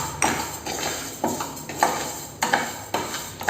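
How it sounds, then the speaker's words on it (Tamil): Rice dry-roasting in a pan until it puffs, with repeated metallic scrapes and clinks of a spoon against the pan at a steady, unhurried rhythm, close and fairly loud. "ப்ரௌன் கலர் வர அளவுக்கு நம்ம வறுக்கணும் அரிசி நம்ம வறுத்துக்கலாம் அரிசி நல்லா பொரிஞ்சு வரும் அது வரைக்கும் வறுக்கணும்"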